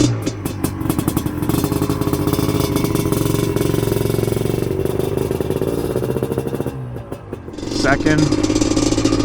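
Rebuilt Yamaha Blaster ATV engine, freshly assembled and breaking in, runs loud and steady with a rough mid-pitched drone, a throttle dip near the end and a rising rev, while someone speaks briefly over it.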